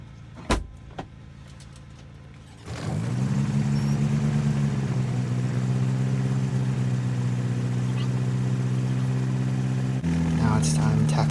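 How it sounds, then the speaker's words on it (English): A Cessna airplane engine cranks after a couple of sharp clicks, then catches and settles into a steady, loud droning idle that shifts slightly in pitch near the end. "clearing the area to start the engine"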